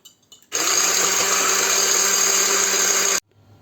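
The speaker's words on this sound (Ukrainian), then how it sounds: "даємо ці білки і будемо збивати до піни" An electric mixer whips egg whites with sugar, whirring loudly and steadily for about three seconds, starting and stopping abruptly, with quiet room sound before and after.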